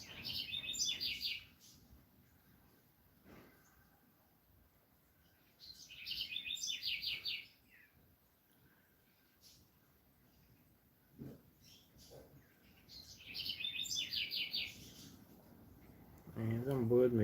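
A bird chirps outdoors in three short bursts of quick high tweets spaced several seconds apart, faint against a quiet background with soft rustles and a low thump at the end.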